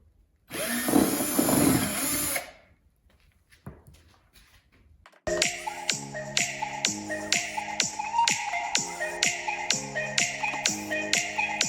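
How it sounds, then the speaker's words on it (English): Power drill backing screws out of the rear bumper on a wrecked salvage C5 Corvette, heard as a long run of close, loud, repeated short whirring bursts with a tool noise before them. "now I'm going to start getting these screws out"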